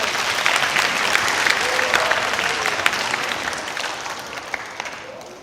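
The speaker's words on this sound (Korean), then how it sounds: "자, 박수로 한번 맞이해 주십시오" Warm applause from a school-age audience at a winter science concert welcoming a student volunteer onstage, dense sustained clapping for several seconds with faint crowd murmur underneath.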